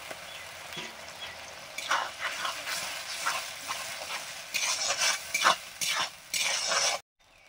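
Ground cumin and coriander spice paste sautéing in a pan with a little water, a soft steady sizzle broken by several louder scraping, stirring bursts, close by and without talk.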